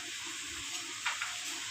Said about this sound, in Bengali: ডালটা কি সুন্দর লাগছে, ফুটছে